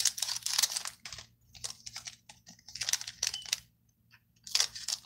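Scissors snip open trading card packs in short bursts of sharp crinkly cutting and rustling, with quieter pauses in between and no talking.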